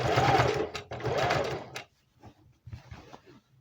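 A sewing machine stitches an Easter apron skirt in two quick bursts of rapid mechanical whirring, followed by quieter clicks and a few short hums.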